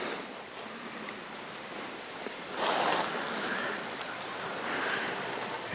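A small creek flows steadily in the Georgia woods, a soft continuous wash of running water with a couple of louder gusty swells, no voices heard.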